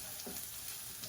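Risotto rice and onion sizzle steadily in a hot pan with a generous glug of oil, soft and continuous. Faint stirring shuffles run under the even crackle.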